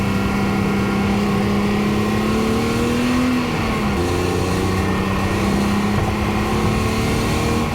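A 2001 BMW Z3 Coupe with a five-speed gearbox accelerating on the road in gear, a loud sustained engine drone rising steadily in pitch, dipping briefly, then pulling on again with steady road noise underneath.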